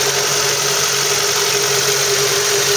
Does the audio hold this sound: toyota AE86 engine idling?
yes